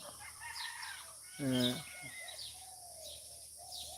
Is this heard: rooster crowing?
yes